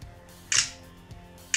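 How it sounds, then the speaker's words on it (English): Camera shutter clicks from the stock camera app on a Huawei Honor 5X phone, two short, crisp snaps about a second apart against a quiet background. "So that's the shutter sound."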